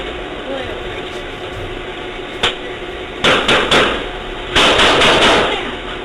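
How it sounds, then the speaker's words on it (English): Several sharp gunshots from a played recording ring out in two close clusters after a lone earlier crack, loud against a steady background hiss, with no one talking. "Now that sound of the gunshot is exactly what woke me up this morning"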